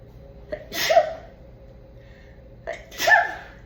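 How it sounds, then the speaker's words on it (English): A single person sneezes twice, close and loud, each burst preceded by a quick intake of breath, with a short pause between them in an otherwise quiet room. "Excuse me, I'm going to sneeze."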